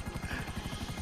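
A helicopter flown in GTA V Online, its rotor a fast, even chop pulsing over a loud continuous engine roar, close and steady throughout.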